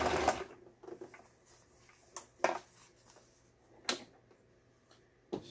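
Home Toyota sewing machine running a fabric-joining stitch pattern, quiet and intermittent, with soft mechanical ticks and brief clattering bursts spaced irregularly over a faint background hum.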